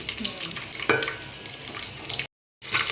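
Onions frying in a pan give a steady, close sizzle with light crackle throughout, broken by a brief moment of total silence near the end before the sizzle resumes.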